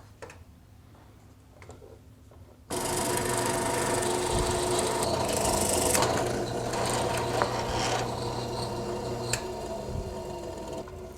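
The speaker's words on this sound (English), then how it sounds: "So now we have drilled this larger hole." A machine drilling a large hole in wood starts up abruptly and runs steadily with a dense mechanical whir and rattling, grinding texture, loud and continuous after a quieter start.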